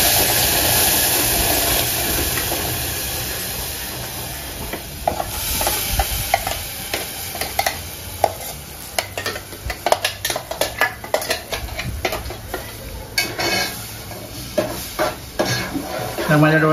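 Spices sizzle in hot oil as tempering for a Malvani mackerel (bangda) curry, while a spoon clanks and scrapes against the pan in irregular, fairly loud knocks over the frying.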